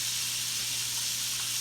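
Chicken livers frying in a pan give a steady, close sizzle and hiss with a few faint pops, and no voices are heard.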